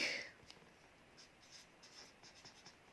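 Faint scratchy strokes of writing on a board during an algebra lesson, short irregular marks following one louder scrape at the start, with no talk over them.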